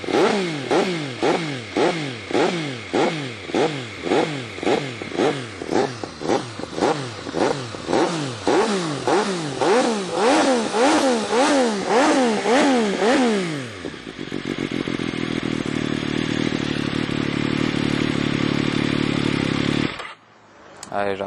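An MV Agusta F3 800 motorcycle engine, already warm, revs repeatedly in rising and falling bursts, then settles into a rough, loud idle before cutting off abruptly near the end.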